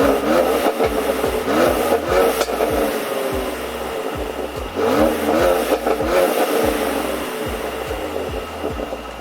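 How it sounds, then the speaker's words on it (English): A Mercedes-AMG engine revving hard with its performance exhaust valves closed, a loud close-up muted roar that rises and falls in repeated bursts with deep pulsing exhaust throb and no talk. "So this is what the car sounds like with the valves closed, aka without the performance exhaust system."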